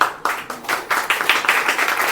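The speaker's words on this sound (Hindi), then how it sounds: "एक बार ताली हो जाए" Lively applause from a group, rapid overlapping hand claps that swell after a brief pause and continue evenly.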